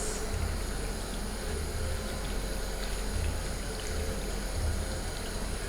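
A steady stream of tap water pours and trickles while a makeup brush is rinsed, an even, close wash of splashing with a low hum underneath and no speech.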